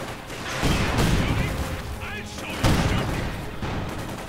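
Gunfire rattles through a WWII strategy game battle as Panzer Grenadiers engage a crew, with dense bursts and booms layered under a commentator's steady talk.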